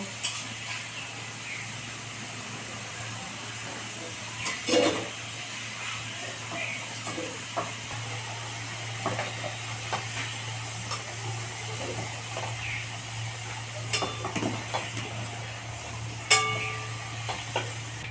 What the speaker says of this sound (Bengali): আলু ভাজা হয়ে গেছে, এবার আলুগুলোকে তুলে নেব